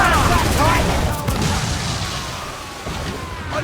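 Ship cannons blasting in a naval battle in the video game Assassin's Creed IV Black Flag, with dense rumbling booms and crashing volleys over a sustained roar of battle noise, with shouted voices mixed in.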